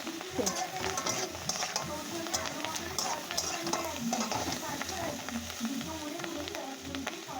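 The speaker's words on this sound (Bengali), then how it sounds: "কিন্তু মাছের ডিমটা ফুটছে," Fish roe sizzles and crackles steadily in oil in a pan, with frequent sharp pops and spatters throughout.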